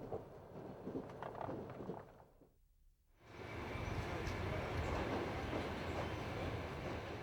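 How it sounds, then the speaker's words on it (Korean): A passenger train arriving in Kyzylorda, Kazakhstan rumbles and clatters with rhythmic wheel noise, briefly dropping quiet for a moment before a louder, steady rolling roar returns. "기차가 도착한 곳은 고려인들의 고장인 끄질로르다"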